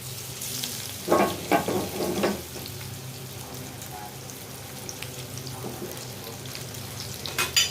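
Spiny gourd frying in a spiced pan gives a moderate sizzle, broken by a few louder clusters of stirring and scraping strokes near the start and end.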